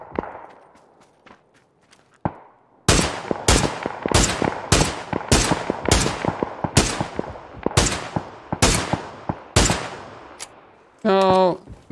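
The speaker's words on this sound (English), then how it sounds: "I'm gonna try to shoot at these other guys." Rifle fire in a PUBG match, with a long-range Beryl and SLR setup: about a dozen loud, sharp shots in a steady paced series after faint footsteps, followed by a short tonal in-game sound at the end.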